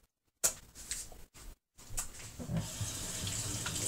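Water runs steadily from a kitchen tap, starting abruptly with a splash, briefly cutting out twice, then flowing continuously and fairly loud into a sink or container while making chocolate protein ice cream.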